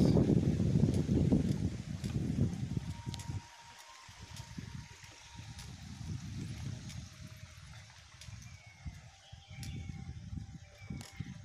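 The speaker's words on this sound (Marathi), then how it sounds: "मधून मधून पाण्याचे आवाज" A small stream trickles and gurgles beside a country road near Pirangut, Pune, heard during a cycle ride, a steady low rush that is louder at first, then softer and continuous, with no talk.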